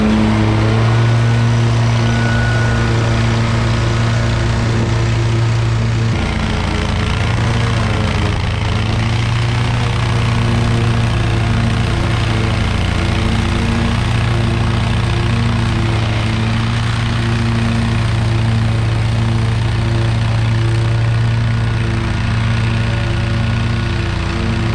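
A lawn mower cutting crazy tall grass, a loud, steady close engine drone with strong low hum, briefly dipping and shifting in pitch around the sixth second as it bogs in the growth.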